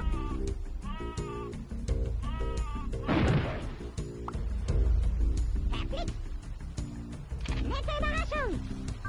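In Worms Armageddon, the sheep weapon bleats repeatedly, then a crashing explosion bursts out. More bleats follow as someone talks over the game sounds.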